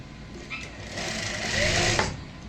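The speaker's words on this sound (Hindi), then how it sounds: "आधा इंच की सिलाई से यहाँ पे जोड़ेंगे" A sewing machine joins a jacket's lining to the main fabric with a half-inch seam, a rapid continuous whir of stitching that rises slightly in pace near the end, close and alone.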